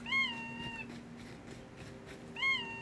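A video game vehicle horn with a nasal, duck-like quack sounds twice, once at the start and again near the end, as short honks over a faint background hum.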